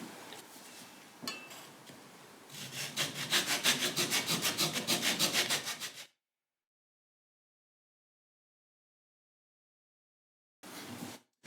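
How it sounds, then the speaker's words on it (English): Close sawing strokes trim excess wood from bent guitar sides held in a mold, a quick rhythmic run of rasping cuts after some light handling, then silence before another brief burst. "the next thing I need to do is go ahead and trim the excess off of each side"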